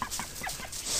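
A duck on its nest in a barn gives a few short, close clucking quacks in quick succession, with no talk over it.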